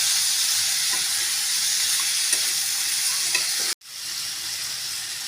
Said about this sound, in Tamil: நல்லா கலந்து விட்டுக்கலாங்க.